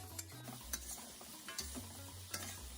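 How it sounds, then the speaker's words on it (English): Beef and vegetables stir-fried for a sauce to serve with white rice, a soft steady sizzle broken by repeated scraping and tossing strokes of a utensil against the pan, close and without talk. "To this, I'll add the rest of my vegetables and I'll stir fry it for another minute."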